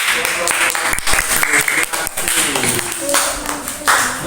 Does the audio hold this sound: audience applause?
yes